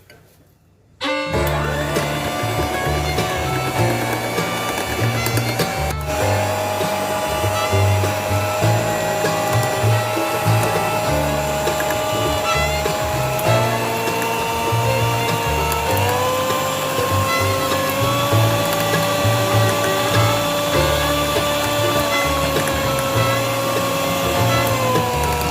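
Electric blender running steadily for about 25 seconds, beating cream with condensed milk and vanilla essence, a loud continuous motor whine with shifting pitch and no talking.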